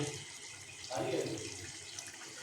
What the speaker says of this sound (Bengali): তাই এর মধ্যে আমরা দিয়েছি পরিমাণ মতো জল